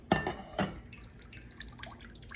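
Rinsed sushi rice drains in a strainer, giving a couple of quick drips and splats followed by faint trickling and soft patters of water, close and quiet.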